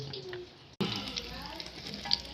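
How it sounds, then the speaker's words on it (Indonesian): Cheese cassava (singkong keju) pieces frying in hot oil, a steady close sizzle and bubbling with faint stirring clatter, alone without talk. "Lanjut digoreng."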